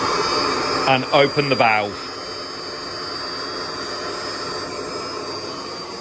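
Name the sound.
blower running on Evolution Aqua K+ aquarium filter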